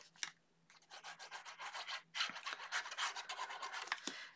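A 5.5 by 5.5 paper panel being burnished down onto a Christmas card folio. The rubbing strokes are close and dry and come in quick repeated bursts, with brief pauses between.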